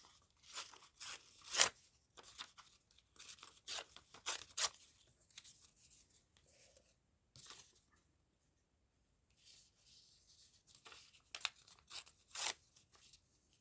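Close, dry ripping of paper for a trash-craft writing board, short tearing strokes and crinkles in clustered bursts with quiet gaps between, and no talk.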